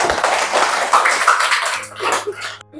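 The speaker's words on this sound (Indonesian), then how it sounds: "Tepuk tangan, yuk semuanya" A school class applauds in a religious studies lesson, a dense burst of many hands clapping that fades out, with a teacher's voice over the end.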